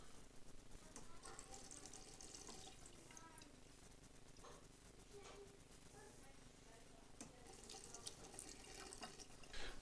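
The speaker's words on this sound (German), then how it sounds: "Unsere Katze und der automatische Wasserhahn." An automatic water tap, with a cat at it, runs in a faint, steady trickle in a quiet indoor room.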